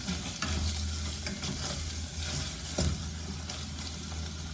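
Pork frying in a pan of hot fat, a dense continuous sizzle with stirring scrapes and a low steady hum beneath, close and fairly loud throughout.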